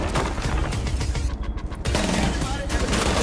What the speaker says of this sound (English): That was a headshot the first time.